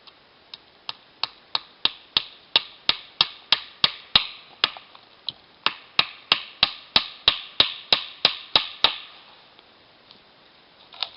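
A steady run of about two dozen sharp, evenly spaced hammer blows drives a nail into a wooden grouse trap outdoors in the Komi countryside, close and loud, then stops.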